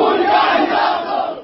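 A crowd of protesters at a rally against the Myanmar government, held in Greece in front of the assembly and the US embassy, shouts together in a loud, dense roar that stays steady for a moment.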